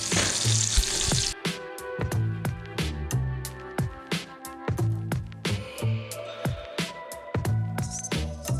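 A 60-day dry-aged ribeye steak sears loudly in a hot pan, a steady close sizzle broken by repeated sharp ticks and clatters as the meat is moved and pressed.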